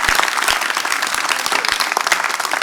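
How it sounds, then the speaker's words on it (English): Audience applause at a TEDx talk in Ede, a steady dense wash of many hands clapping throughout, loud and sustained with no talk over it. "give Eric a round of applause from all of us"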